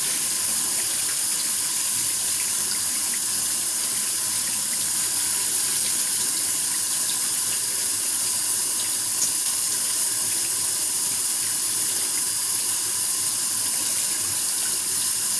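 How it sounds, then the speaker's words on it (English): Cold water gushes steadily from a kitchen tap into a sink, a constant loud splashing rush with no breaks. "Take this, run cold water over it."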